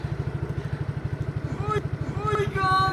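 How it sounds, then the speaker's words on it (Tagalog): A motorcycle engine idles nearby with a steady, rapid, throbbing pulse, while voices talk and call out over it toward the end. "Ito na yung motor ni Jenna."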